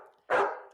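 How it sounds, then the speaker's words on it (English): A single dog bark, sharp and fairly close, standing alone after a brief low hum with no voices over it. "Your dog kind of barked the exact same way twice."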